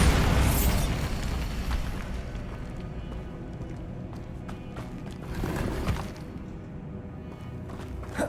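The Bombarda blast spell from the Hogwarts Legacy game: a loud, deep booming explosion at the start that rolls off into rumbling debris and combat noise, with a smaller thump later.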